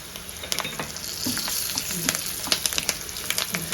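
Curry leaves, chilli powder, turmeric and spices frying in a pan for a drumstick-leaf tempering, a steady close sizzle broken by scraping stirs, with no talking.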